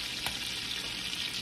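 Mushrooms cook in browning butter in a nice hot pan, a bright, even frying sizzle with a small clink near the start, steady and fairly close with no speech.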